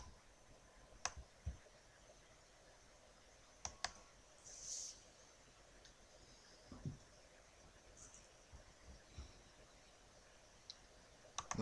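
Computer mouse clicking on a YouTube page, a handful of sharp, quiet, isolated clicks spaced irregularly over a quiet room background, with no talking.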